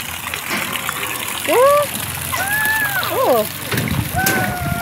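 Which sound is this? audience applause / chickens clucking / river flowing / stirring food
river flowing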